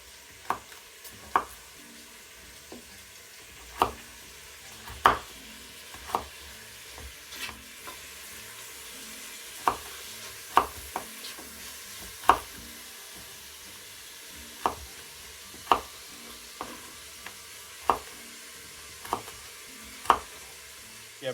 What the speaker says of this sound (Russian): теперь добавляем лук и морковь. И также обжариваем.